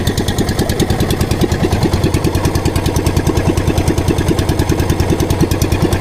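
A boat engine idles while warming up before heading out onto the Pacific Ocean, a loud, close, rapid and even knocking chug that runs steadily throughout with no voices.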